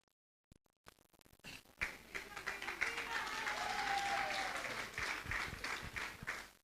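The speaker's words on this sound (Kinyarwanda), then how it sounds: "We applaud to God more than that." Church congregation applauding during an evening worship service, a broad wash of clapping that swells after a few scattered claps and holds steady, with voices mixed into the crowd noise.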